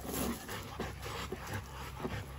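Dogs panting steadily and close by, with soft rhythmic breaths and an occasional faint whimper, heard alone without talk.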